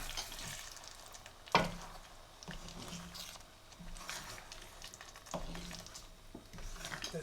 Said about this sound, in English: I'll give it a gentle stir after adding this Kasuri Methi